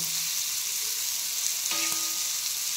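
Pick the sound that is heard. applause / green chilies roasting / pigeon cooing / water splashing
green chilies roasting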